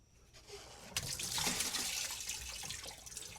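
Coolant water draining from a 2016 Chevy 5.3 cooling system into a bucket, a close splashing and trickling pour that starts quietly and swells into a steady rush about a second in.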